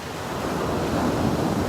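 Ocean waves break and wash along the shore in a loud, steady roar of surf, with some wind buffeting the microphone and no voices.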